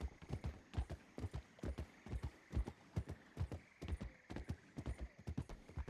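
Horses trotting in the Red Dead Redemption 2 roleplay game WildRP, a steady rhythmic clip-clop of several hooves close by with a low background hum and no talking.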